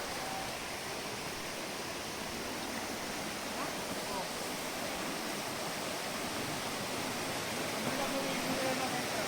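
A clean river flows steadily, a continuous close rush of water with no breaks, loud and even from start to finish.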